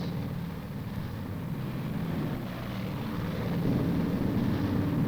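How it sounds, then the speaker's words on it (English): B-29 bombers take off from Okinawan bases with a broad, continuous engine roar that holds steady and swells slightly louder toward the end, heard without any voices. "Day after day, plane after plane, the B-29s roared up from their Okinawan bases"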